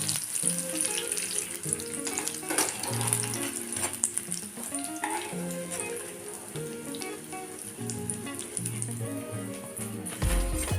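Pumpkin fritters (kumro bora) frying in hot oil, a steady crackling sizzle running throughout, close and moderately loud with no talk over it.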